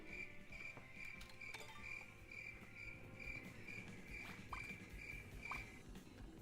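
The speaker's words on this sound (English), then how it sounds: "The sweet sound of crickets." Crickets chirping in a game scene, a steady high pulsing trill repeating evenly across the clip, faint and continuous over a low background murmur.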